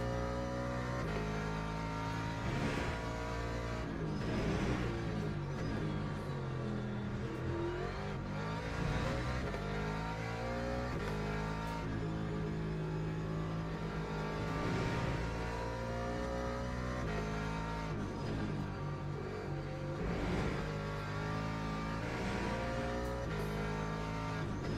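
A Ford Mustang engine in the Gran Turismo racing game drones continuously, with the revs rising and falling through gear changes over a steady, loud roar.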